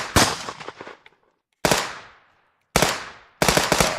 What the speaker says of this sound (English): Now I'm dual wielding a sawn off and a SMG.